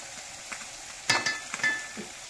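Mackerel frying in a pan, soft steady sizzling with a few brief louder crackles and spits near the middle, close and alone.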